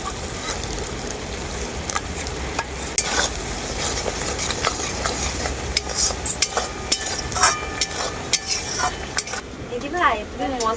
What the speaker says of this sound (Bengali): টক দই আর কাজু বাদাম বাটা দেওয়ার পরে মশলাটাকে আমি খুব ভালো করে কষিয়ে নিয়েছি